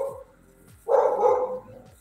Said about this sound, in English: And you guys can probably hear my dogs.